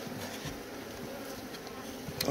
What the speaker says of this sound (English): The bees are good at flying up.